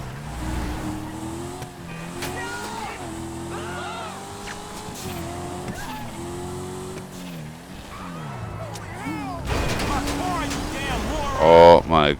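A car racing through heavy traffic in a video game, engine revving loudly with rising and falling pitch, a burst of tire squeal and a skid near the end, while someone talks over it.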